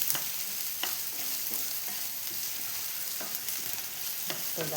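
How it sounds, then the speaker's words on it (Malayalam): Sliced onions sauté in a pan for Kerala-style kadala curry, giving a steady sizzle throughout with a few sharp scraping stirs of a spoon spaced through the clip, close and fairly quiet, no talking. "സവാള ഏകദേശം വഴന്നു വന്നിട്ടുണ്ട്"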